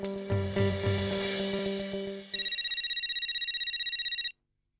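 A phone rings while a call is placed to a bus driver, starting with muddled tones and shifting into a steady run of rapid, bright, evenly pulsed ring tones that end abruptly, close and alone without talk.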